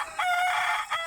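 Free-range country chickens on a village poultry farm in summer heat call out with two short, bright, close clucking cries that stand out over a quiet background.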